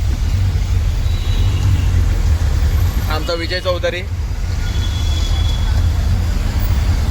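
Heavy traffic in Majiwada, heard from inside an auto rickshaw: a constant loud engine and road rumble, with someone speaking briefly in the middle.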